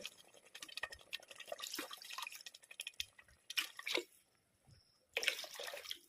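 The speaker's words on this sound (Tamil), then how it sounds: "அதுக்கு வந்து 4 டம்ளர் தண்ணி சேர்த்துக்கிறேங்க." Water poured into a pot of rice for tomato rice, heard as intermittent splashing and trickling bursts with quiet gaps between, fairly close and moderately soft.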